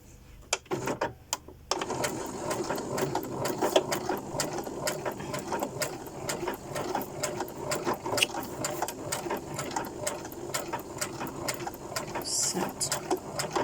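A sewing machine stitching a ribbon runs in a steady, close, continuous mechanical whir with rapid needle ticks, starting after a brief pause and carrying on for over ten seconds.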